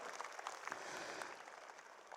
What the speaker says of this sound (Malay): So beri tepukan kepada anda kerana anda mampu untuk menyokong kami semua